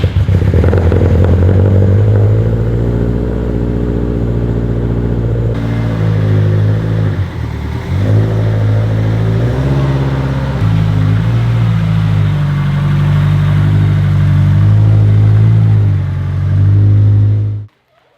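An abandoned Subaru STi that sat for years on bad gas and old fluids runs and revs loudly and steadily up close, its engine note rising and falling through repeated throttle blips before cutting off abruptly at the end.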